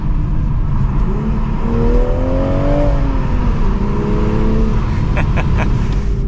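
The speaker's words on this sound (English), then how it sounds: "this thing packs a punch and gets up to speed without even thinking" A 2023 Toyota GR Supra 3.0 Premium with a manual gearbox accelerates hard, its engine note climbing and falling through rising pitch sweeps over a loud, continuous roar of road and wind noise, heard from inside the car.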